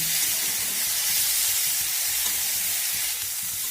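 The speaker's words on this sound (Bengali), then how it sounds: "এখন আমি ভাপিয়ে রাখা ফুলকপিগুলো দিয়ে ভেজে নেব।" Steamed cauliflower dusted with turmeric frying in hot oil gives a loud, unbroken sizzling hiss, close and constant, with no voices.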